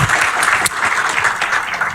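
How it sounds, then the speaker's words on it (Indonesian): Congregation applause during a church sermon, a dense continuous wash of clapping from many hands at steady loudness for two seconds, with a brief dip partway through. "Berikan tepuk tangan kita untuk Tuhan kita."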